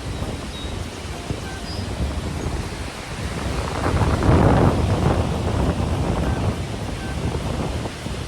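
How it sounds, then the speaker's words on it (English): Peterson waterfall rushing steadily outdoors, a broad roar of falling water that swells louder midway, with wind buffeting the microphone and no voices. "That's called the Peterson waterfall."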